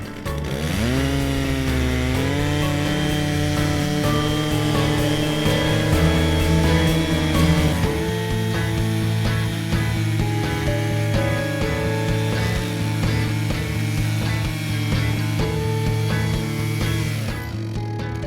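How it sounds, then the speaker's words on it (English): A chainsaw cuts through a log guided by a Logosol timber jig, its loud, high-pitched engine whine holding a steady pitch under load for the whole stretch, with one brief dip early on. "Make sure that there is free space for the bar nose when you're sawing."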